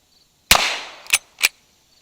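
Two shots from an 1873 lever-action rifle chambered in .38 Special, heard as a sharp crack with a short decaying tail and then a second, smaller crack about half a second later. A third brief report follows, with no talking.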